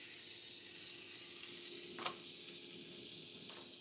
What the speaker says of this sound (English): we're adding the minced beef in now.